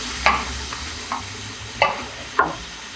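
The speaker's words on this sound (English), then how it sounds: "As you can see now, the meat is browning off." Beef and pork mince browning in a pan: a steady sizzle with a few sharp spoon scrapes and knocks as it is stirred, close and fairly loud.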